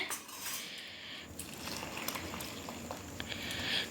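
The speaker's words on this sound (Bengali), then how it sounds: "গরম গরম জলটা দিয়ে এবার দুধটা মা গুলে নিচ্ছে" A spoon stirs milk into hot water for chushi payesh, giving soft, faint metallic clinks and scrapes over a low background hiss.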